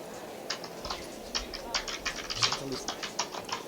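Rapid keyboard typing with irregular clicks close by, a steady stream of keystrokes over faint background noise.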